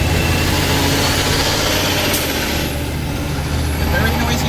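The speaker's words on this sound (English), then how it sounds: "a very noisy truck" A very noisy truck rumbles past close by, its heavy engine droning loudly and steadily, with a brief hiss near the middle and a voice talking over it.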